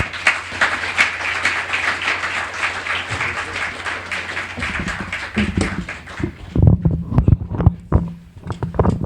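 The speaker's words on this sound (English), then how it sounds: "please give a big applause to the panelists" An audience at a panel on US economic and security policy applauds the panelists with steady, dense clapping for several seconds. It then thins into scattered claps, with sounds of people moving and a voice toward the end.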